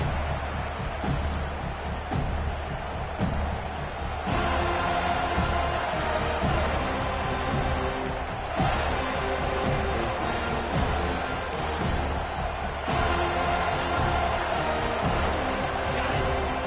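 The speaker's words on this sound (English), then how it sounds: "this crowd is fired up. Listen to this noise here." A large football stadium crowd roars steadily with loud, sustained cheering that swells in waves, distant and dense, with no break in the noise.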